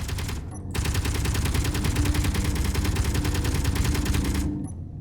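Gatling guns in the Space Engineers video game firing a sustained, rapid, loud stream of shots for about four seconds, then cutting off abruptly.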